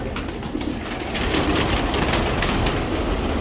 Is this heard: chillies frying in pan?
no